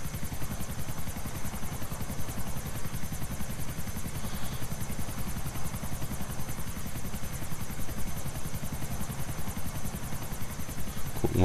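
Helicopter in a video game flying steadily, a loud continuous rotor thrum with rapid blade chop and turbine whine holding at a constant level throughout, with no voices.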